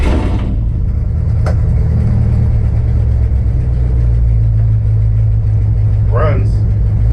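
A modified Jeep Grand Cherokee ZJ gasser engine starts and settles into a loud, steady idle rumble, with a brief voice near the end.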